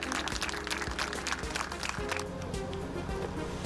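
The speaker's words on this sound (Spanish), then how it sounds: "Recibamos con fuertes aplausos" Audience applause greeting a speaker at an education conference held by Cuba's Ministry of Education: a dense, steady patter of clapping from a room full of people, sustained evenly throughout.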